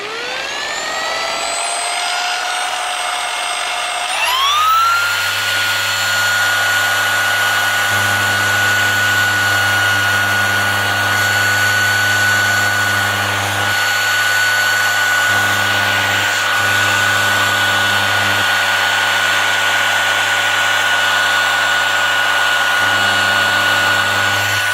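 Harbor Freight dual-action polisher spinning up with a rising whine, then running at a steady loud pitch with a constant hum and no voices.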